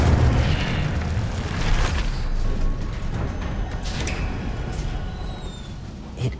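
A fire spell blast cast in the Hogwarts Legacy video game, a loud booming burst that rumbles throughout amid continuous game noise, with a few brighter pops and crackles toward the end.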